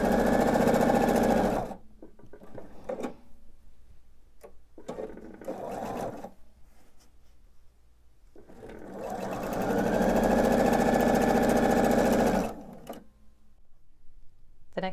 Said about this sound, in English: And go ahead and sew that seam.